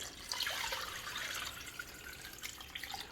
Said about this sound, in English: We're just going to top this all up with water.